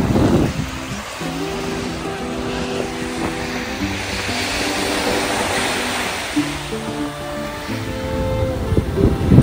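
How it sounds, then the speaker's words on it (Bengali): Atlantic Ocean waves crash onto the beach in a steady, loud roar of surf that swells and breaks continuously. Seabirds are nearby, and a faint tonal hum runs underneath. "ঢেউগুলো আসছে, পাড়ে আছড়ে পড়ছে।"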